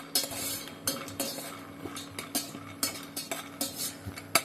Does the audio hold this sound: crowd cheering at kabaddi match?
no